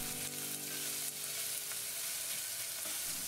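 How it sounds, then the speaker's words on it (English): Onions frying in olive oil in a medium saucepan over medium-high heat, giving a continuous dense sizzle at a steady level throughout, with no talking. "throw in your onions and fry until soft"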